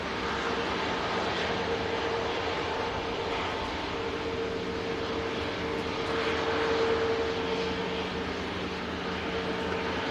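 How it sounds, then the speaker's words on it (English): A Qatar Airways Airbus A350 arriving at Manchester Airport from Doha gives a steady, broad jet engine roar with a faint whine. The sound stays at a fairly constant level, heard from a distance and outdoors. "Qatar Airbus A350 arriving in Manchester from Doha"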